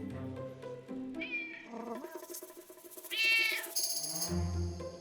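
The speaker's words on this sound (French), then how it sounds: "Miaou!" A cat found by the roadside meows several times in short, clear calls of varying pitch, close and fairly loud, with no talking.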